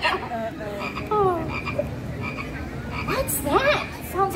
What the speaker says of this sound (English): Sounds like a little green frog who loves living life on his swamp